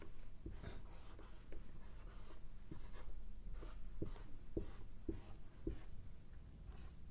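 Chalk scratching and tapping across a classroom board in short strokes with sharp taps, steady and close against a faint room hum, with no talking.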